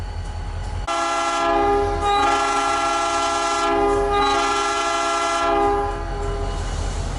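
Locomotive 425 passing a station on its way to the turntable, its horn sounding long, loud blasts over the rumble and clatter of the train, close by.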